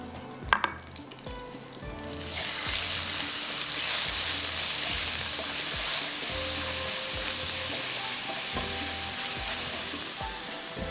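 Masala hits hot oil in a covered-stove kitchen pan with a sudden loud sizzle after a brief clatter, then frying hisses steadily while rhythmic stirring scrapes repeat underneath, close and continuous.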